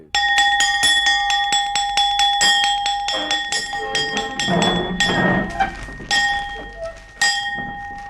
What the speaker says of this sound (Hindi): हमारा हुक्म है आधी छुट्टी की घंटी बजा दी